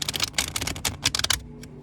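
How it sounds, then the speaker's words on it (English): Rider-Waite-Smith tarot cards shuffled by hand in a quick run of close, crisp riffling clicks and flutters that stops near the end, with no talking. "we're going to go ahead and shuffle from the tarot."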